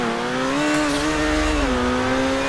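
In GTA 5 Online, the Entity MT supercar sits bouncing hard off its rev limiter, a loud, strained, high engine whine that holds nearly level and stutters as the limiter cuts in, with no voices.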